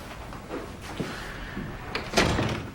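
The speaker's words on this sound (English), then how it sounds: "Gotta get the door, okay?" A door is shut with a soft thump followed by a sharper closing knock, heard close in a quiet room.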